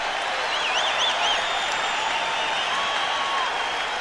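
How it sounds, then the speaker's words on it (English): A basketball arena crowd in a 1986 Celtics–Bulls playoff game roars steadily during a timeout as Boston rallies, a dense sustained cheer with a few whistles rising above it. "Listen to the crowd as the Celtics have come back"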